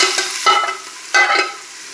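Chopped onions sautéing with ginger, garlic and green chili in a pan, a close hiss of frying broken by short scraping bursts as a spoon stirs them, with no talk.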